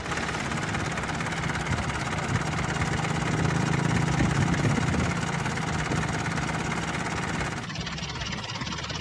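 An engine runs after its glow plugs have preheated, already warm, giving a steady loud idling drone with a low rumble for about seven seconds before it drops away sharply near the end.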